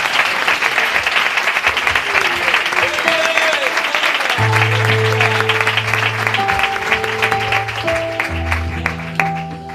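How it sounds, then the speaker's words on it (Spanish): Church congregation clapping steadily throughout, with sustained organ or keyboard chords entering partway and swelling beneath the applause. "Aplauda a Dios con alegría en esta tarde."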